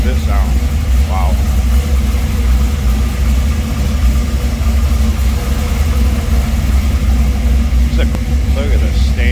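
Steady low rumble of a 1953 Chevrolet 210 Post with headers at idle, even and continuous throughout, while someone talks over the running engine close by.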